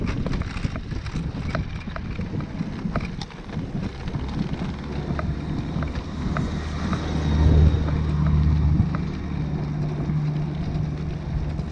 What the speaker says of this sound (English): gotta let this Goldwing go past